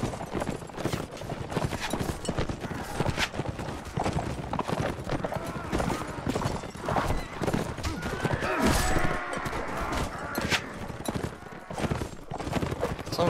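Horse galloping in the video game Mount & Blade: Warband, a steady, loud stream of hoofbeats mixed with battle noise and someone talking throughout.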